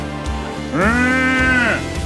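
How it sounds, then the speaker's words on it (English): A single long, loud cow moo, close and drawn out, rising and then tailing off over a steady background drone. "Cow."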